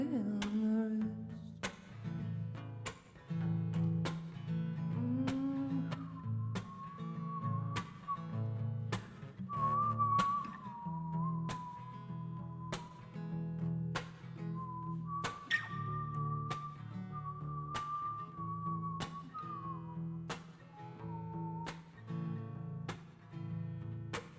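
Someone whistles a faint melody over rhythmic strummed guitar, the whistled line wavering and fairly soft.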